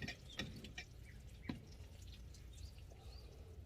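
Water drips and trickles into the soil of a small terrarium made from an upcycled light fixture, giving a few soft, sparse drip ticks over a quiet background.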